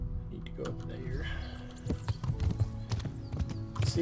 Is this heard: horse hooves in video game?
yes